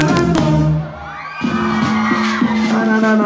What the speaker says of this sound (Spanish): Después de rango, el pinche griterío de la gente.